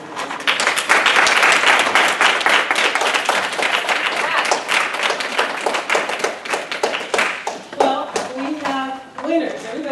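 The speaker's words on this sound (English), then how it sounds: "I think a round of applause is deserved to Linda McDowell" Loud, dense audience clapping at an academic awards event for Linda McDowell, sustained for several seconds and then thinning out as a voice begins talking.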